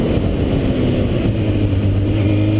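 Sport motorcycle engine droning loud and steady at close range under open throttle, a dense continuous roar with no pauses or talking.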